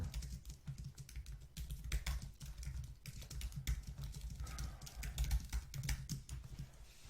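Fingers clatter across a computer keyboard in quick, irregular bursts of close, crisp keystrokes, with short pauses between runs and no talking.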